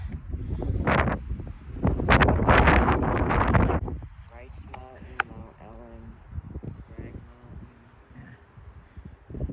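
Strong gusts of wind buffet the microphone on a New Hampshire mountain summit for the first few seconds, then drop away as a person talks.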